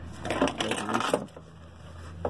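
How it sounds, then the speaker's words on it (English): A set of keys dropping onto a hard surface, giving a cluster of loud metallic jingles and clinks over about a second, then a quiet room hum and one last small clink. "As my keys just fell."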